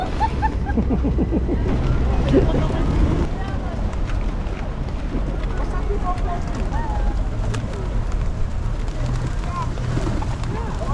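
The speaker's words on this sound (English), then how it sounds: "it's where all the little birds, you can feed them" Pigeons coo and flutter nearby at a city fountain in Sarajevo amid steady outdoor wind noise, with people talking over the scene throughout.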